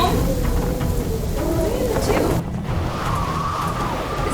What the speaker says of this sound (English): This storm is intense.